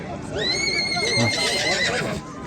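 A horse whinnies loudly at a horse market, a long rising-and-falling neigh lasting about two seconds, with crowd chatter and voices underneath.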